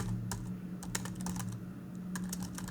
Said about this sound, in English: So I'll type this out.